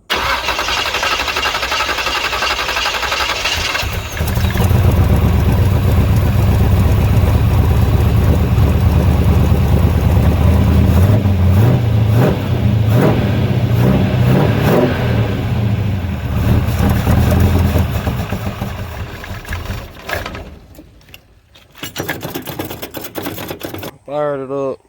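A 1964 Chevrolet C10 with a 355 V8 cranks and catches, then runs loud and rough for several seconds before stumbling and dying, struggling to stay running on its own.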